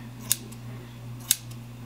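Scissors snip twice while trimming the front pieces of hair at an angle, two crisp separate cuts about a second apart, close and clear over a steady low hum.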